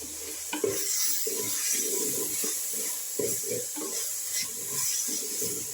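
Crushed green chilli and ginger going into onions frying in a pan, with soft sizzling and repeated stirring scrapes and clinks of a utensil against the pan.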